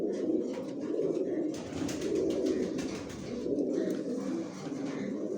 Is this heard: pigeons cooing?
yes